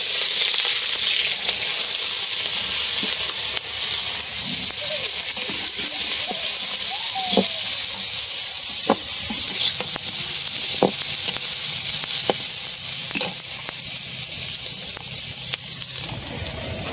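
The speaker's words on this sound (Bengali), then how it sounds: "তাই পেঁয়াজ রসুন কাঁচামরিচ একসাথে সম্বাই সাথে দিতেছি" Onion, garlic and green chili fry together in a pan with a loud, continuous sizzling hiss, close by, with occasional stirring clicks and a voice talking faintly over it.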